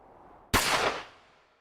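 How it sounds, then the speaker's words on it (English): A single sharp gunshot in the visual novel game Chaos;Head Noah cracks out loud and close after a faint quiet bed, its bright tail fading slowly over about a second. "Then Ban heard a gunshot."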